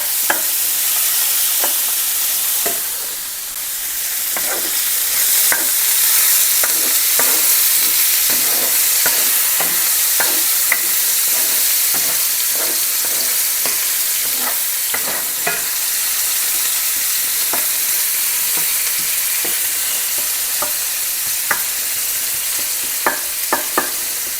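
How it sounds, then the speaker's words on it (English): Chopped onion frying in a pan while being stirred, a steady close sizzle broken by repeated sharp scrapes and clicks of the utensil against the pan, with no talking. "Mix that around a little. Cook the onion a bit."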